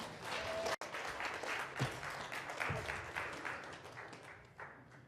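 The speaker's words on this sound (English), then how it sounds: "Can you give them a round of applause?" A crowd claps to welcome speakers onto a stage, soft and fairly distant, a steady patter of applause with a single sharp knock near the start.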